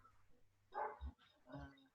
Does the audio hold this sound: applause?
no